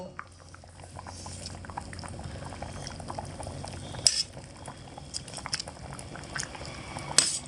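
A pot of khichuri with rice, lentils and mixed vegetables bubbling on the stove, a soft steady simmer with faint liquid patter and a couple of sharp clinks of utensils.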